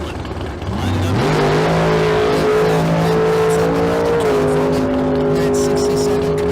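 Drag racing cars launching at the Street Car Super Nationals in Las Vegas, with a 1967 Camaro among them: a loud engine roar that climbs steeply in pitch at launch and holds a sustained high rev, with crowd noise and a commentator talking over it.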